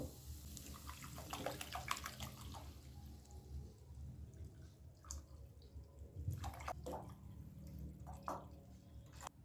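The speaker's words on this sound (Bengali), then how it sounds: "এবার এর মধ্যে আমি এক লিটারের একটু বেশি জল দিয়ে দেব" Just over a litre of water is poured into a pot of stir-fried chicken for soup, a steady splashing trickle with a few drips, fairly quiet and with no voices.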